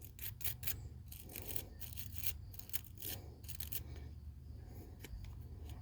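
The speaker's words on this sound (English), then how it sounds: "you can still use the same metal brush, just be ginger. Just give it a little scratch." A metal brush scratches deposits off a Huskee rototiller carburetor in quick, light, repeated strokes, a close, faint, steady rasping over a low hum.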